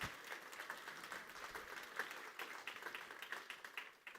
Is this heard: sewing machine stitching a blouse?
no